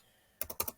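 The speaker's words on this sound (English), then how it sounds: "You can see I'm typing it in right here." A few crisp, close computer-keyboard keystrokes tap out numbers after a quiet pause, four quick clicks in a loose rhythm.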